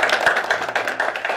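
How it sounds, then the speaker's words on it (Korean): A small group gives a round of applause at a Korean press event, a brief burst of crisp, closely packed hand claps heard clearly and alone. "우리 훌륭한 분한테 박수 한 번"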